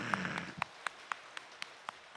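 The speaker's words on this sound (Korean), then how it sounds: "박수 한번 칩시다" Church congregation applauding during a Sunday worship service, heard as faint, evenly spaced claps in a steady rhythm over a quiet room after a short burst of noise.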